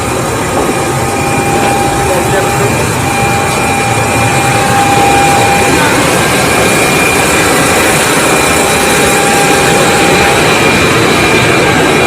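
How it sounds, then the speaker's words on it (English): A large diesel engine runs aboard the submarine USS Memphis, a loud, steady broadband roar with a constant machinery hum and faint whine, filling the whole stretch without letup. "This is the side of the diesel engine here."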